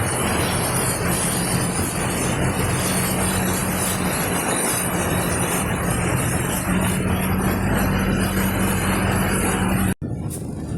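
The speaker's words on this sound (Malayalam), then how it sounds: "വണ്ടി ഇപ്പോൾ ഓടുന്നത് ഈ വെള്ളത്തിൽ കൂടാണ് കേട്ടോ." A KSRTC bus drives along a flooded road in Kuttanad, Alappuzha, its engine rumbling steadily with constant broadband noise from wheels pushing through standing water, close and loud throughout until an abrupt cut near the end.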